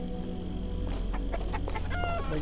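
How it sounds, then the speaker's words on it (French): A chicken in the Arx Fatalis game clucks in a run of short, close calls over a steady low background drone. "la poule."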